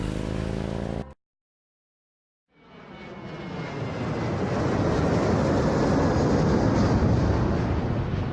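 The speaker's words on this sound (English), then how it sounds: "Gabriel picks up his tickets at the airport and boards a plane for Munich." Steady broadband roar of a jet airliner cabin on the flight to Munich in the adventure game Gabriel Knight: The Sins of the Fathers, fading in after a brief silence and holding loud and even to the end.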